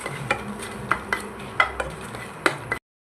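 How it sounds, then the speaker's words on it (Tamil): About ten dried red chillies and chana dal dry-roasting in a pan for a curry leaf spice powder, with a spatula stirring them in irregular light scrapes and clicks, close up and without talk. "ஒரு 10 வரமிளகா மட்டும் நான் ஆட் பண்ணி வணக்கிக்கிறேன்."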